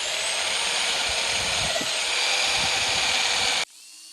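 A wire brush spun by a drill scours an engine cylinder liner from a Peugeot 106 TU1M+ engine, a loud steady grinding whir running continuously for several seconds before cutting off abruptly into quiet.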